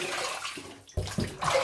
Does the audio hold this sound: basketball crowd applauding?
no